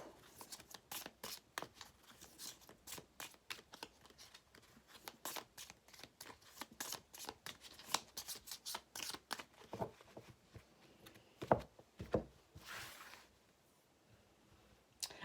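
Tarot cards being shuffled by hand at close range, a long run of quick papery riffles and soft slaps in an uneven rhythm, fairly quiet and with no talking.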